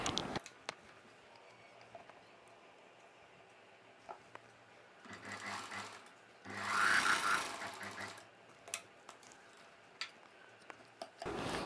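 A sewing machine stitching cloth for a long dress sits mostly idle with faint ticks, then runs in a short burst and a louder, longer burst in the middle before falling back to scattered clicks.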